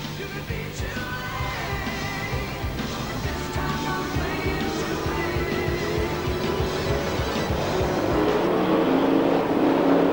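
Sprint cars racing at Speedway City in Adelaide during the 2001/02 Australian Sprintcar Masters, a continuous loud engine roar from the pack that swells toward the end, heard from the stands without talk.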